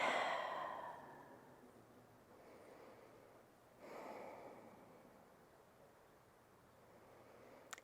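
Deep breathing during a yoga heart-opener pose, a close, loud exhale at the start, then a second softer breath cycle a few seconds later, over quiet room hiss.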